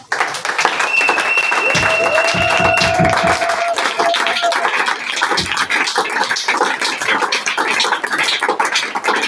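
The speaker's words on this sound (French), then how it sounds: "Est-ce qu'on peut acclamer plus fort le roi des rois?" Applause from a church congregation, a dense steady wash of many hands clapping throughout, loud and close, with voices and a brief sustained tone mixed in.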